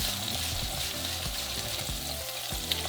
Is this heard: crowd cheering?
no